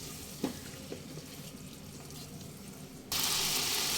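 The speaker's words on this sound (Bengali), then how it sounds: "আবার একটু জল দিয়ে দিলাম হালকা গরম জল আছে" Warm water poured into spices frying in a pan for a vegetarian doi potol curry: low sizzling and a couple of soft clinks, then a sudden loud hissing rush as the water hits the hot pan.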